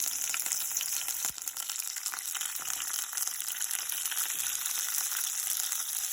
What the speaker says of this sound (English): in this, I'm going to add these shallots, the small onion,